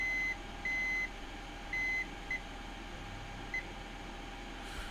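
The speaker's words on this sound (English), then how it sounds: "Now it's beeping." Electronic beeping at a steady high pitch from a DIY-soldered Dig-Quad v3 board, several short beeps in an irregular pattern over a constant background hum.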